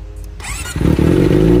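A Kawasaki Ninja ZX-25R sport motorcycle with an Austin Racing aftermarket exhaust cranks and catches, settling into a loud, throaty idle with a deep rumbling exhaust.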